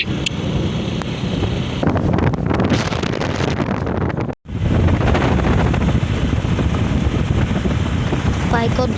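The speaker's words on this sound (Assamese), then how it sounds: "বাইকত বৰ হাল্লা সেইকাৰণে মই ভইচ ওভাৰ কৰি দিব লগা হৈছে" Riding a motorcycle along a road brings loud, constant wind buffeting against the microphone with a low rushing roar, cut by one brief dropout midway before the blustering resumes.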